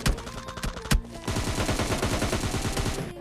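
Rapid automatic gunfire from the mobile shooter game PUBG Mobile Lite, a few loud separate shots followed by a dense, continuous burst of rattling fire that fills the short stretch up close.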